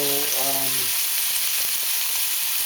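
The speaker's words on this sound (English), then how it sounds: "it should sizzle like that when you put it on" Loud, steady sizzling and crackling of bacon frying in a cast iron pan fills the clip, with a brief tonal hum near the start.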